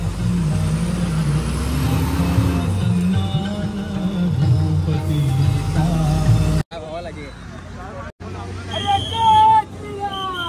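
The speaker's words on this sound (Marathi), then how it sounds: "खूपच ट्रॅफिक आहे आज घाटामध्ये।" Heavy traffic crawls up a mountain ghat road, trucks and buses rumbling close with engine drone, a hiss of air brakes and a busy murmur of people, with voices talking and chanting over the noise.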